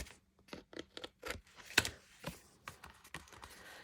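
Scissors trim the sides of a paper tabbed divider in a junk journal, making a quick, irregular run of short, close snips and paper crackles at low volume.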